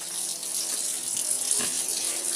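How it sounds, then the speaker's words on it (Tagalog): Water runs steadily from a tap nearby, a continuous splashing rush with no pauses. "lalagyan natin ng tubig"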